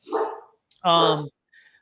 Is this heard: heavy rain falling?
no